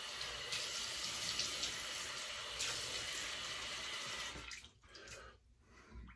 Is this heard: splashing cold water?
yes